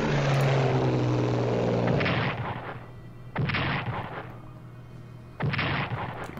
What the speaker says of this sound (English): Let's bomb the Germans.